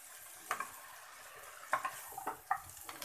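Stirring cabbage with chopped tomato and egg in a frying pan, a faint sizzle underneath several sharp scrapes and clinks of the utensil against the pan, spaced irregularly and close by.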